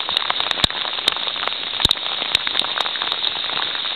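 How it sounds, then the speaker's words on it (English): Torrential hail pounding outdoors at Stonehaven, a dense, hissing clatter of ice with sharp louder impacts scattered through it, close and continuous. "We have now got torrential hail."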